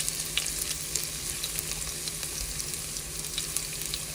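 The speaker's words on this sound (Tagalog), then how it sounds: "Kasi pareho din na igigisa sila." Mung beans and malunggay leaves sautéing in a pan give a steady, close sizzle with crackling pops throughout, no voices over it.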